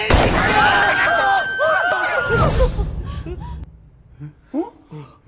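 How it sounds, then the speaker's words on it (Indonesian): Gunfire rings out in a crime film shootout, a loud, dense barrage mixed with shouting voices, then it thins to scattered bangs and people talking. "terjadilah aksi baku tembak yang cukup menegangkan"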